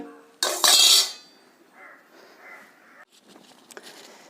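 A lid set onto a cooking pot of chicken on the stove: one loud, bright metallic clatter near the start, then faint rattles and small clinks that die away.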